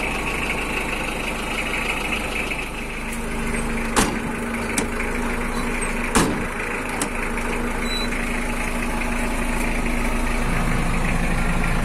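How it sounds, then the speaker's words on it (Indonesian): A 2000 Mitsubishi L300 pickup engine idles with a steady, close mechanical hum, broken by a few sharp clicks and knocks. "Saya hidupkan mesinnya pemirsa biar tahu kualitas mesinnya nanti ya"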